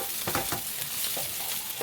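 Chopped onion fries in olive oil in a pan for cabbage and mushroom pierogi filling, giving a continuous close sizzle with repeated scraping stirs of a utensil at a loose, uneven rhythm.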